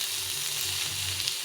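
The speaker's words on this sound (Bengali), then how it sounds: "টমেটোর সঙ্গে ছোলাটাকে ভালো করে ভেজে নিতে হবে" Tomatoes and chickpeas frying in a pan, a steady dense sizzle with a low hum beneath, continuous and close without any speech.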